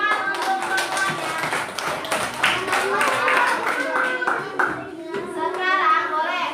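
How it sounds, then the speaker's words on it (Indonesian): Children clap their hands together in a classroom, a quick, rhythmic run of sharp claps and taps that continues steadily, with young voices talking and calling out over it throughout. "Tepuk tangan untuk semuanya."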